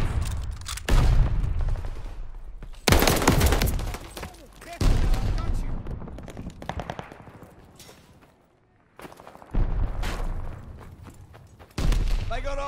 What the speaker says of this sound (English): Tossing stun grenade.